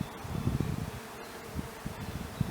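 A honeybee swarm buzzes around a tupelo tree on a homestead in June, a soft continuous drone of many wings heard outdoors at moderate distance, mixed with faint rustling and breeze.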